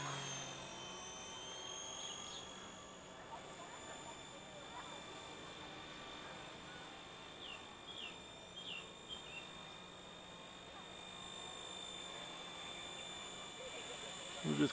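A Microheli S300C RC helicopter fitted with 250mm blades flies in a park, its high whining rotor and motor buzzing steadily at moderate distance, with faint bird chirps and outdoor ambience.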